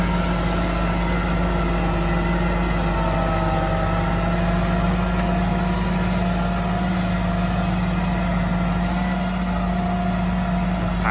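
A New Holland 7740 tractor pulls a disc plough through mixed sandy and loamy soil, its engine giving a steady, loud, close drone that holds without a break.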